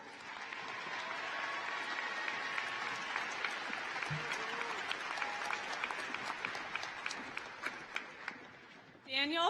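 Sustained audience applause fills a high school graduation ceremony hall, steady and broad for several seconds before thinning into scattered claps, with a brief voice near the end.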